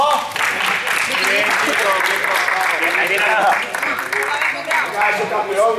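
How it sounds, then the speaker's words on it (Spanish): Applause from a crowd at an award moment of a youth basketball event as a team collects diplomas: dense sustained clapping for several seconds, with voices talking and calling out over it. "Un aplauso, por favor."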